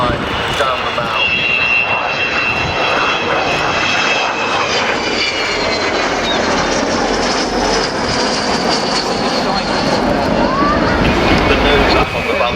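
Avro Vulcan XH558 delta-wing bomber passing at an airshow at Fairford, a loud continuous roaring engine drone with a rising howl, heard over a commentator's voice on a public address system.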